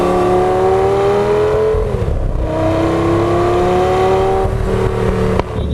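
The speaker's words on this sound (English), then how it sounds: "E-gear downshifts are pretty good now." An Audi RS3 with an E-gear transmission drones steadily at close range, its engine pitch sliding down through downshifts, dipping sharply near the middle and again before a brief drop at the end.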